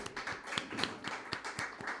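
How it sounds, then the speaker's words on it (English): Scattered clapping from a small audience after a live music performance ending, a quick run of sharp, uneven claps at moderate distance, fairly faint, with no voices. "Can we have another round of applause for that ending?"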